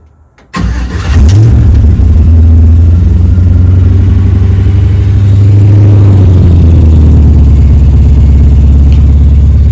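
A car engine cranks and catches after a fuel filter replacement, then settles into a smooth, steady idle, loud and close with a brief rev and no talking.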